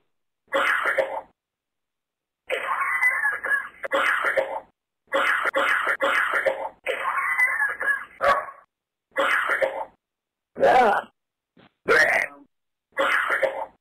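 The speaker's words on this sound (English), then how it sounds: "That's a mean cough you got." A person coughing over a phone line, with repeated harsh coughs and throat-clearing bursts coming in short clusters separated by silent gaps, loud and close.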